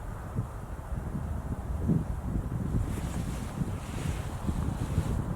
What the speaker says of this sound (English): The breeze is picking up.